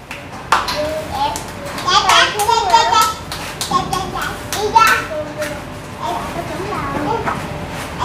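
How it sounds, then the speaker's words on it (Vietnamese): Children clapping their hands indoors, scattered quick claps mixed with excited children's chatter and squeals throughout. "Vỗ tay thôi."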